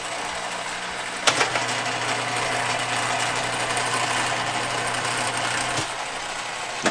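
A cylinder boring bar machine runs with a steady mechanical hum and rattle, with a sharp clunk near the start and another near the end of about seven seconds.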